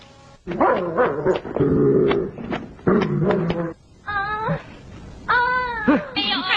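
A sick dog whimpers and whines in several short, wavering bursts that rise and fall in pitch, loud and close, with brief pauses between them.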